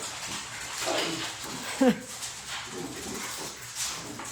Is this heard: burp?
no